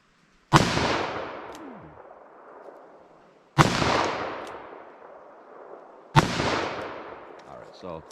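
Three loud, sharp gunshots from a .44 Magnum revolver, spaced about three seconds apart, each a close blast with a long echoing decay trailing off.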